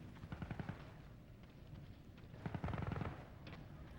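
Wartime gunfire from Germans entrenched on a mountainside near Cassino, heard as bursts of rapid automatic fire and rumbling shots, loud and close, in two clusters separated by quieter crackling.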